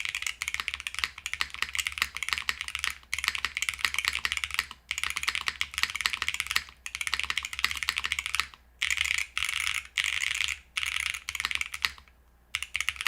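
Rapid typing on a Hall Effect M60 mechanical keyboard, dense clacking keystrokes in bursts with a few short pauses, close and clear with no talking.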